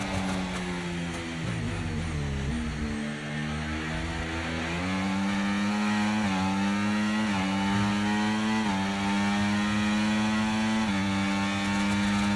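F1 car engine in F1 24, a struggling power unit: a loud, close, high-revving whine that drops and climbs through gear changes, sustained for the whole stretch with no talk.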